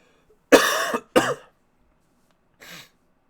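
Two sharp coughs in quick succession, close and loud, followed after a pause by a softer, shorter cough.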